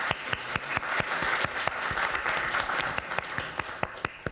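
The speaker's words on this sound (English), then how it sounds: "please give a round of applause to our speakers" An audience applauding speakers at a global health event, a steady wash of many hands clapping at moderate distance for several seconds, with faint voices underneath.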